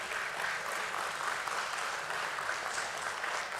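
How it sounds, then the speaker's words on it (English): Steady round of applause from a crowd at a BSE stock exchange listing ceremony for INOX India Limited, dense clapping sustained evenly throughout with no voices. "So let's begin this beautiful day with a round of applause for all of you."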